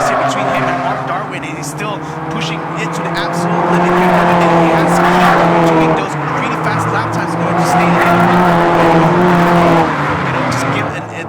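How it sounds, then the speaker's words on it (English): Race car engine held at a high, sustained roar at the absolute limit while leading a chase, loud and continuous with rising and falling pitch, under excited commentary. "gku Chan still pushing the car as if he's still being chased by ghosts"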